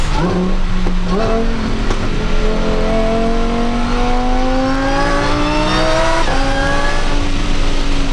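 A fast car accelerating hard, its engine revving up through rising gears with audible shifts, loud and close, the pitch climbing steadily over several seconds with a brief drop before climbing again.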